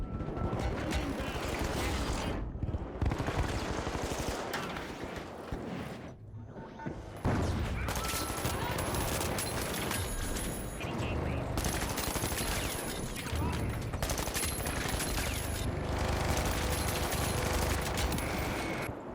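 Minigun fire in Team Fortress 2, long dense bursts of rapid automatic shots with brief gaps, loud and close amid chaotic game combat.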